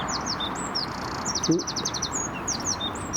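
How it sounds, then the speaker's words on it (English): A robin chirps nearby in a garden with bird feeders, rapid bright trilling phrases repeating over a soft outdoor background, with a brief murmured exclamation from a person partway through. "Can hear a little robin there chirping away."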